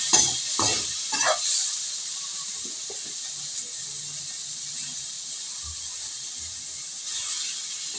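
Laing, a Bicol dish of taro leaves, frying in its own oil, a loud steady hiss of sizzling with a few stirring scrapes at the start, close and continuous with no talking.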